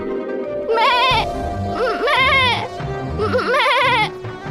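Three loud, quavering bleats from a goat in quick succession, close by, over a low background rumble.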